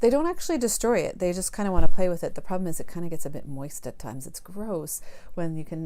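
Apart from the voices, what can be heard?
No everyday noise stands out behind the speech.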